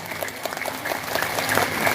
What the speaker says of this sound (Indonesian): Oh ya, tepuk tangan dulu nggak apa-apa.